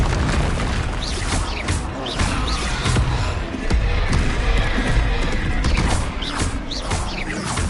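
Confringo spell explosions go off during combat in Hogwarts Legacy, a string of booming blasts and crashing impacts over busy battle noise, with dense continuous action throughout.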